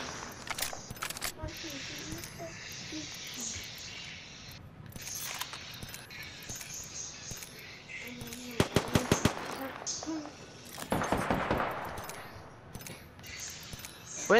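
Gunfire rattles in Apex Legends: scattered shots, then tight rapid automatic bursts close by, mixed with other game effects while players talk over the action.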